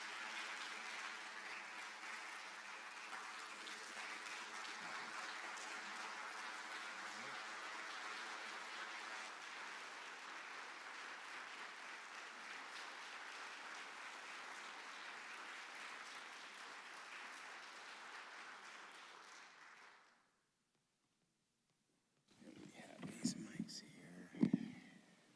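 Audience applause after a keynote address by Michael Eric Dyson: steady sustained clapping from a large crowd for about twenty seconds, fading out, then a short pause before a voice speaks near the end.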